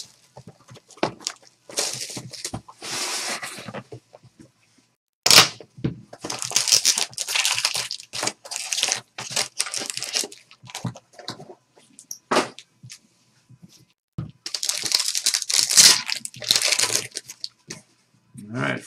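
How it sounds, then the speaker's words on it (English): Foil wrappers of Trilogy hockey card packs crinkle and tear in several close, crackly bursts separated by short pauses, with faint low voices now and then. "We're going to break it now."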